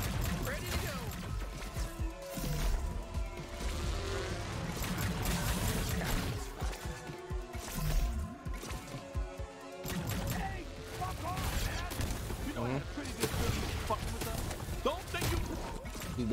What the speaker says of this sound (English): Boy, this shotgun is OP.